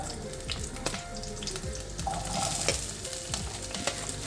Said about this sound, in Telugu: నూనె వేడైన తర్వాత మనం ఉల్లిపాయలని ఫ్రై చేసుకోవాలి